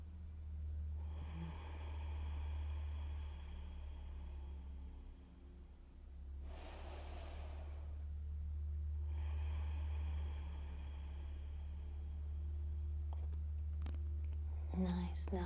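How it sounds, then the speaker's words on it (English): Slow, deep breaths during gentle floor yoga for back mobility, two long soft exhalations heard close over a low steady hum, ending with a few faint rustles. "A couple of more deep breaths here."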